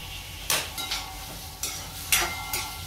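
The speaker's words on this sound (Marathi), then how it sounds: "चला याच्यात परतून घेते सगळं" A spoon scrapes and stirs pumpkin kofta curry masala in a pan, giving about six distinct sharp scraping strokes over a soft, faint background sizzle.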